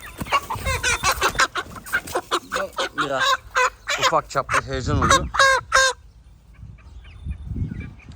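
Someone talks continuously while chickens cluck and squawk close by in agitated bursts as a rooster is caught, with a brief flurry after the speech stops.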